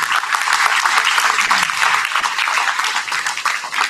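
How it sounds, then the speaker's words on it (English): Audience at a high school parent forum applauds, a steady, dense wash of many hands clapping that carries through the whole stretch without a break. "Come on, bring a round of applause."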